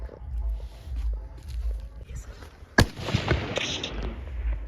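A big-bore rifle fires a single sharp, loud shot at a 300 m shooting range, cutting through steady outdoor background noise.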